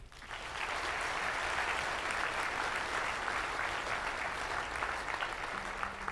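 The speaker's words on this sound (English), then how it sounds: "give another round of applause to the last speaker that came up here" Audience applause at a school assembly in Manteca, a steady mid-sized crowd clapping continuously for about six seconds, evenly loud from start to finish with no talking over it.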